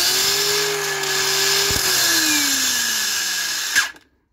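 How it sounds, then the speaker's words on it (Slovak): A Parkside PWSAP 20-Li C3 cordless angle grinder is switched off with a click, its steady high whine dropping in pitch as the braked disc spins down over a few seconds and then goes silent, close and loud. "A takým kliknutím na tlačítko sa brúska vypne."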